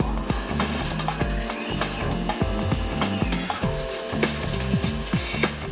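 A 5-axis milling and turning machine clamps its workpiece, producing a dense, continuous mechanical clatter of gears and ratcheting clicks at steady loudness throughout.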